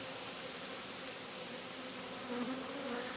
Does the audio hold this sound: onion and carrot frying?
no